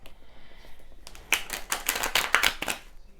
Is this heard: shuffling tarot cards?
yes